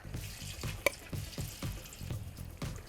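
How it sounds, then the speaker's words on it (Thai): Steady crackling sizzle of chicken frying in very hot oil in a pan, with soft rhythmic scraping or stirring sounds recurring throughout; no talking. "เดี๋ยวเราก็จะนำไก่ไปทอดกันเลย"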